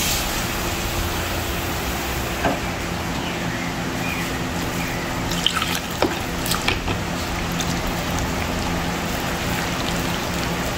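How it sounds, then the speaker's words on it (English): Water is poured into a cooking pot while coo coo and stew fish are being made, giving a soft, continuous splashing hiss with a few small clinks and drips. "add some more water."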